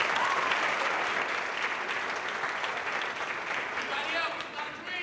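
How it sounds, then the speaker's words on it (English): An audience at a Marquette University college-prep scholars event breaks into a sustained round of applause, dense clapping holding steady for several seconds before thinning slightly near the end. "Give her a round of applause."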